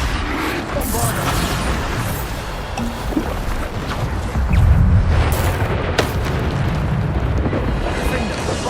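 Bombarda spell explosions in the Hogwarts Legacy video game, a dense barrage of booming blasts and crackling impacts rolling on continuously, loud and close, with a heavier burst near the middle.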